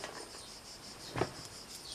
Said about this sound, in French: avec les cigales.